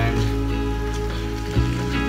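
Egg bhurji sizzles steadily in a hot pan, a continuous bright crackle with a low hum underneath and a brief stir or knock near the end, close and fairly loud.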